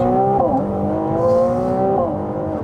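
A Ferrari with a very powerful V6, said to make about 800 horsepower, accelerates hard in a loud, sustained close-up run: a rising engine pitch breaks at one gearshift and climbs again, with no talk over it.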